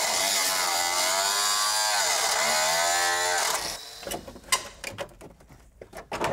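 A power tool cuts out a rusted rocker panel on a '66 Chevy truck, starting as a loud, steady whining grind that changes pitch, then breaking into rough, uneven rattling and scraping bursts.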